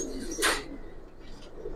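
A pet Giribaz pigeon gives one brief, soft coo, close by and quiet, over a faint steady background with no talking.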